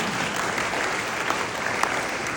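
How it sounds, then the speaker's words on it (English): A crowd at the Iowa Democratic Wing Ding political rally in the Surf Ballroom claps steadily, a dense, continuous wash of applause filling the room with no break. "Give yourselves a round on that."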